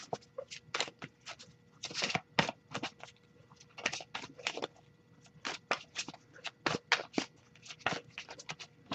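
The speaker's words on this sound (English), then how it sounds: "I'll give it a few more shuffles though, see if we get anything." Tarot cards shuffled by hand in quick, close bursts of papery slaps and riffles, some clustered and some spaced apart, with no talking over them.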